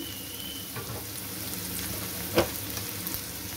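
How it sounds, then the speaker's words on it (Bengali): Salted potatoes frying lightly in oil in a pan give a steady, close hiss and sizzle, with a single soft utensil knock partway through. "আলুগুলো একটু হালকা করে ভেজে নেব।"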